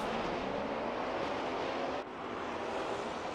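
Maserati race cars pull away from a rolling start at Monza as a steady, dense roar that stays loud and unbroken, with a brief dip midway and no voices.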